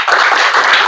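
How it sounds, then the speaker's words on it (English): A live audience gives a big burst of clapping on cue, a loud, dense wash of many hands filling the whole moment without a break. "let's give him big clap"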